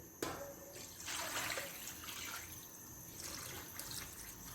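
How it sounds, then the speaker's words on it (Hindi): Water pours steadily into a pot holding about a kilo of rice for chicken and pea pulao, double the rice's volume, a close, continuous splashing rush that swells and eases in waves. "मैं दुगना पानी डालूंगी"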